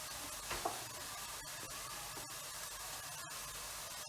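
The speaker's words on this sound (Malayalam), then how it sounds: "ഈ ഒരു പ്രോസസ് ഇല്ലേ ഇങ്ങനെ ഉള്ളി മൂത്ത് വരുന്നത്, അതിനെ ബിസ്ത എന്നാ പറയും" Onions fry steadily in a pan for a simple chicken curry, making a continuous hissing sizzle with a few stirring clicks near the start. No voices are heard.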